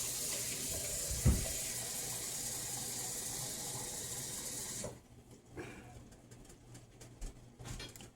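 Two cups of water pouring into a cooking pot for chili, a steady loud rushing stream that stops abruptly partway, followed by quieter kitchen sounds and faint bird coos in the background.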